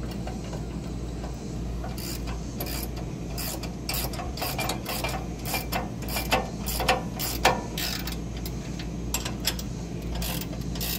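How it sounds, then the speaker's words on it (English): Bolts on an RV bumper mount for a Blackstone griddle being snugged down with a ratchet, giving repeated quick clicking bursts over a steady low outdoor hum at a campsite. "once you get your hardware down, you just want to snug these up."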